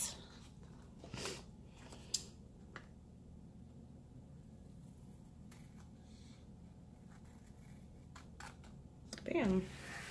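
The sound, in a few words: scissors cutting paper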